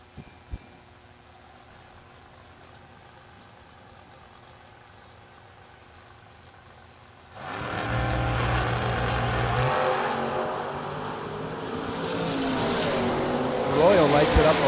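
A 1970 Camaro drag car idles quietly in the left lane, then roars loudly into a hard launch halfway through, engine howling and climbing as it pulls away.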